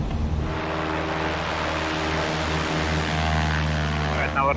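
Cessna 172S piston engine and propeller at takeoff thrust in X-Plane 12, a steady loud droning hum with harmonic tones holding constant throughout, no talk over it.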